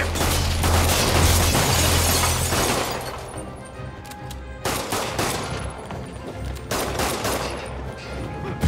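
Rapid gunfire from criminals shooting at Spider-Man in a video game, a loud sustained burst in the first few seconds, then scattered bursts of shots.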